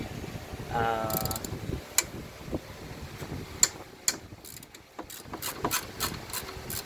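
A ratchet works on the alternator adjusting bolt of a 2000-2004 Subaru Outback, giving scattered sharp metallic clicks at close range, with a brief voice early on.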